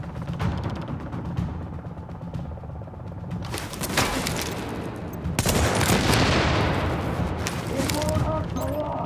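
Gunfire in The Division campaign on PC: sporadic shots give way to loud rapid bursts and a heavy blast, with a voice speaking under the shooting and rumble.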